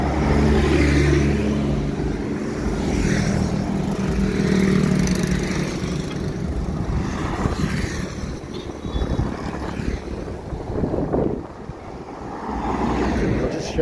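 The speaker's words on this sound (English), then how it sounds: "Here's the bus coming down the coast." A bus drives along a stormy coast road, its engine rumbling steadily and swelling as it passes, mixed with heavy wind buffeting the microphone.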